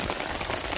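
Steady rain falling on a village rooftop terrace, a dense even hiss of drops close by with no voices.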